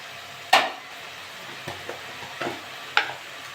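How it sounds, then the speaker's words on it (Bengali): A spatula scrapes and stirs white shak greens with boiled potatoes in a frying pan, giving four or five distinct knocks and scrapes over a soft steady sizzle. "এটা নেড়ে চেড়ে নেবো।"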